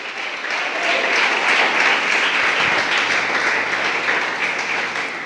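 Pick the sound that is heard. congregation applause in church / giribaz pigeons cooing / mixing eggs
congregation applause in church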